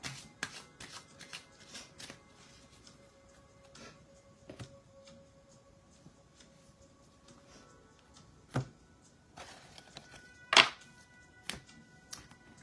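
Tarot cards are shuffled by hand in a quiet room, soft riffling and flicking in an uneven run of light taps, with a few sharper snaps toward the end, close and without talk.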